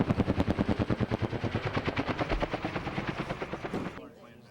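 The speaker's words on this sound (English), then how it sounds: "I think everybody loves to hear the sound of the helicopter." A Vietnam-era military helicopter runs close by, its rotor thumping in rapid, steady, loud pulses that fade in the last moment.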